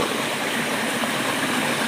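A forest stream flows nearby as a dense, steady rush of water. The broadband roar stays even and loud through the short stretch and sits close, with no voices.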